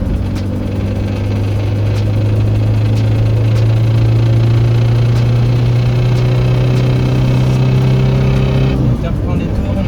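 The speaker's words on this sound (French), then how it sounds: "Donc là on se retrouve maintenant pour une insertion sur autoroute." A Peugeot 205 engine drones loudly from inside the cabin as the car pulls onto a motorway in third gear, a steady strained hum with rising pitch that drops at the end, while someone talks over it.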